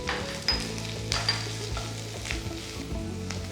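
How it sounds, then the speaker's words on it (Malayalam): Sliced garlic and green chillies sauté in a pan, a close, crackling sizzle broken by a few sharp spatula scrapes and knocks against the pan. "ഇതെല്ലാം കൂടെ ഒന്ന് വഴറ്റിയെടുക്കുക."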